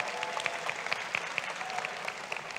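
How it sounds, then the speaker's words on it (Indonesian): Steady, fairly faint audience applause at an Indonesian political town-hall event with health workers, dense clapping continuing evenly throughout. "Tepuk tangan semuanya."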